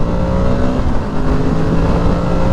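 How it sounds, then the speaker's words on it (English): A Kawasaki Z650RS motorcycle engine drones loudly and steadily up close while riding, with a continuous revving hum and rushing wind noise throughout. "God, this bike sounds good."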